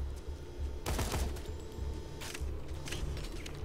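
A Dahl assault rifle in Borderlands 2 lets off a few quiet bursts of rapid gunfire, short clustered cracks standing out from a low game background hum.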